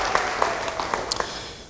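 A church congregation applauds during a sermon, scattered claps rising out of a low room murmur, with no talk over them.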